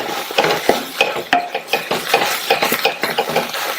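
Cooked rice and greens with salt being stirred in a pan, a close, continuous scraping and clattering of a spoon against metal with soft squelching of the food, steady and without talk.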